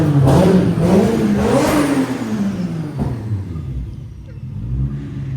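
An untuned BMW E36 engine running rich revs up and down up close, loud rising and falling roars that ease off before a final rev.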